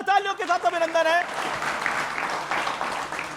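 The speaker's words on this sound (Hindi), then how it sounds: "एक बार फिर जोरदार तालियों के साथ अभिनंदन है।" Audience applause welcoming Bhojpuri film star Nirahua (Dinesh Lal Yadav) onto an interview stage, with dhol drums mentioned nearby; a voice talks over the opening second, then steady clapping carries on for the rest.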